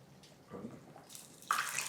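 Water poured into a pot of sprouted moth bean curry cooked in turmeric water, a soft short splashing pour that swells near the end, quiet and close.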